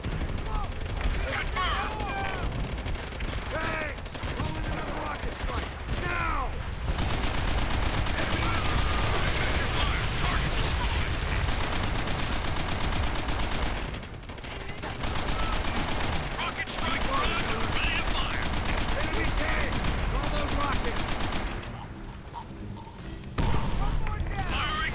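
Heavy machine gun fire in a World War II battle from the Call of Duty: World at War campaign, sustained rattling bursts amid explosions and battlefield noise, with voices shouting over the din.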